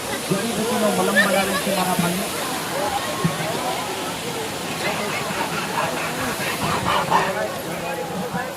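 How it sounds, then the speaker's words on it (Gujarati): Water rushes steadily over rocks in a constant, broadband hiss, with faint voices murmuring in the background. "ભાઈ આવી પર પાણી આવે છે જુઓ"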